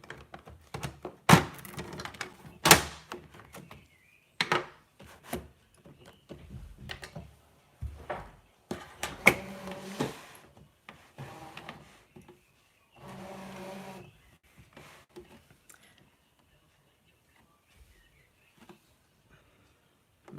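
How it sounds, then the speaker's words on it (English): A ScanNCut cutting machine takes in a fabric cutting mat with a series of mechanical clicks, thunks and short motor whirs, then a brief steady hum before it goes quiet, with nobody talking. "I'm going to load this in to the machine"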